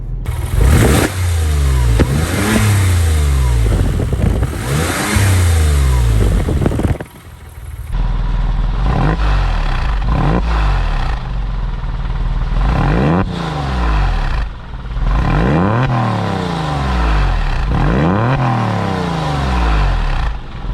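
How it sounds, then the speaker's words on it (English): Porsche 911 (996 generation) flat-six fitted with an FD Motorsports Fister exhaust, revved repeatedly while warm; loud, close blips rise and fall in a steady rhythm over a throaty idle, with no talking. "All right, let's do some warm revs."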